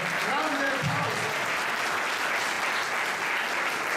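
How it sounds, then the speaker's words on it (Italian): Loud, dense audience applause fills an award ceremony after a race memorial, with a brief voice at the start and the clapping continuing steadily throughout. "grande applauso"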